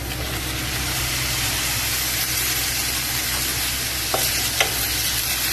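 Tomatoes sautéing in masala for a channa gravy, a steady loud sizzle and frying hiss with a couple of faint stirring scrapes near the end, no speech.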